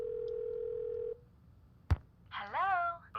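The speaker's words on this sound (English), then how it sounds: "It is ringing." A steady telephone tone in a Nancy Drew video game, held for about a second before it cuts off, then a sharp click and a warbling electronic ring.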